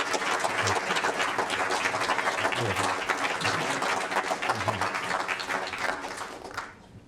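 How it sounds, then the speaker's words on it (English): A large audience at a panel discussion applauds loudly and continuously, a dense roar of clapping that tapers off at the end. "I'd like you to give a massive round of applause to Paul, Lara, and Jeremy."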